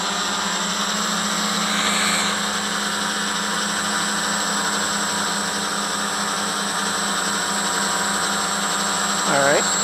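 A DJI F550 hexacopter hovers with its six motors and propellers working hard under load, giving a constant high whine and buzzing drone held at steady loudness, with a short bit of voice at the very end.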